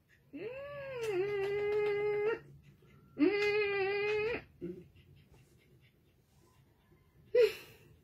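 A dog whimpers indoors, letting out two drawn-out, wavering whining cries of about two seconds each, a brief whimper after them and a short sharp yelp near the end. The sounds are fairly quiet in an otherwise still room.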